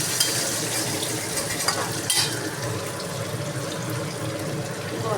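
An egg frying in a pan gives a loud, continuous close-up sizzle that crackles evenly throughout, with a brief scrape or clink of a utensil near the middle and no voices.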